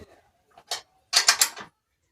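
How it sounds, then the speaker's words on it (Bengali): A wrench tightening the wheel nut on a bicycle, giving a few short metallic ratcheting clicks close up, a brief one first and then a quick burst of three or four clicks, with silence between. "এই চাকাটি হাত দিয়ে চেপে ধরে এই নাটটি টাইট করে নেব তারপরে ফুল টাইট করে নেব"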